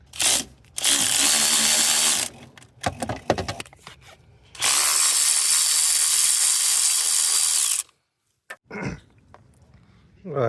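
Hand tools at work under the hood of a BMW 530 E61 wagon as a leaking oil cooler gasket is removed, with long stretches of loud, steady broadband noise, brief knocks and rattles between them, and a near-silent pause before the noise starts up again.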